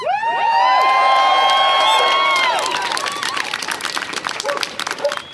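A loud rally crowd cheers, whoops and shouts at a Stop Cop City protest, a dense burst of many voices and whistles that holds strong for a few seconds, then thins into scattered cheers and clapping.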